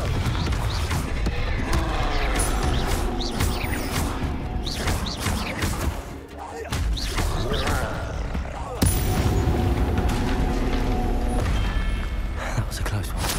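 Spell-combat blasts from the Hogwarts Legacy video game, a Confringo fire spell among them, with dense bursts, crashes and booms running nearly nonstop at close range, one short dip in the middle, and speech mixed in.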